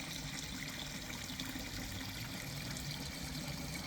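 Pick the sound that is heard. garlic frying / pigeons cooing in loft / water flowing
water flowing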